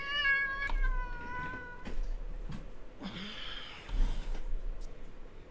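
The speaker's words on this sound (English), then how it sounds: "Tiny Cat, get off the desk." A pet cat meows near the microphone: a drawn-out meow opens the clip, then shorter sounds and faint shuffling follow over a quiet indoor background hum.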